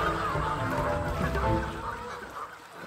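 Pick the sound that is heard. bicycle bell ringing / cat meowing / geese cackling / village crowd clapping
geese cackling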